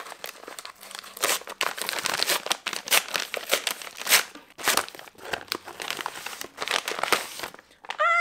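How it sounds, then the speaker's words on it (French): A parcel of books and stationery is torn open, and the packaging crinkles and rustles up close in busy, irregular bursts of crumpling plastic and paper, with no speech. "On commence donc par ouvrir ces colis-là"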